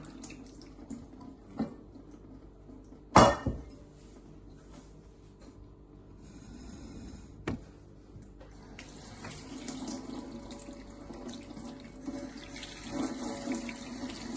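A kitchen tap runs in bursts while beef tripe soaked in vinegar water is rinsed for tripe soup, with clunks and handling knocks between stretches of steady flow that swells louder toward the end.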